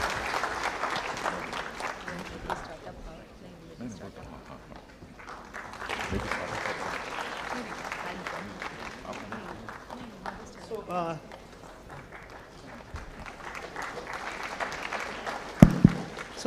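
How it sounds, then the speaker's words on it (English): An audience at a semiconductor design roadshow held at IISc Bangalore applauds the speakers, with sustained clapping rising and falling over the stretch and talk intermittently heard over it. "Please give them a round of applause."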